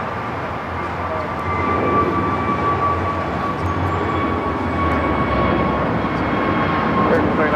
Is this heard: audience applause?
no